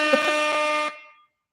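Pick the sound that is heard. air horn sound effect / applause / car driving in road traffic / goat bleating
air horn sound effect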